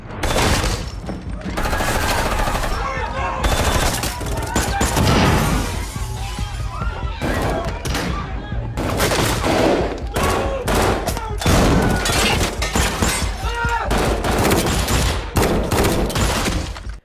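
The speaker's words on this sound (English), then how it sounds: "This is a fucking gunfight." A gunfight scene from the film Destroyer erupts in dense bursts of gunfire, loud and close, with rapid volleys, shattering crashes and booms packed together almost without pause.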